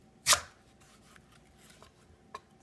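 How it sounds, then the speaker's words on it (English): A knife slices vegetables into thick pieces, with one sharp, loud chop against the board followed by a fainter second cut after a quiet pause. "I'm just gonna make slices here so that I can use them."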